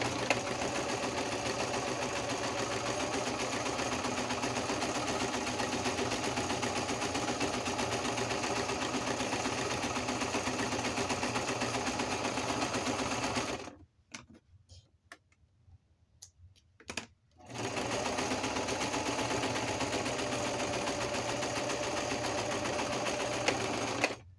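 Sewing machine stitching through paper, a loud, steady rapid mechanical clatter that stops for a few seconds midway, with a brief burst, then resumes at the same pace.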